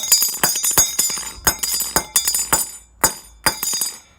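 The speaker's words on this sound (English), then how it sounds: "you hit the hammer" A hammer strikes a bent bicycle chainring lying on the floor, giving about a dozen sharp metallic clinks at an uneven rhythm. The strikes are close and loud with short ringing tails and no talk.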